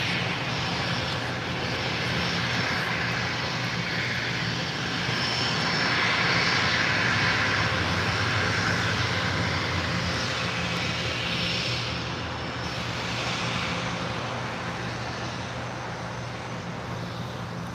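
Bombardier Global 6000 business jet at LAX, a steady broadband engine roar that holds near-constant loudness throughout, swelling slightly in the middle, with no talk.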